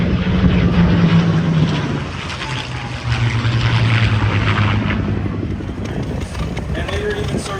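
A World War II propeller warbird flies over an airshow, its steady engine drone loud and continuous throughout with a passing pitch shift, while someone talks over it.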